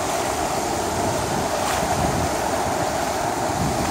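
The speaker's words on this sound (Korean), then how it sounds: "파도 너무 이쁘다." Ocean waves at Anmyeondo keep up a loud, steady roar of surf with wind noise at the shore, with no speech.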